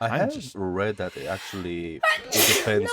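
A sneeze bursts out loud and close near the end of a conversation, cutting sharply into the speech around it. Several people are talking before it.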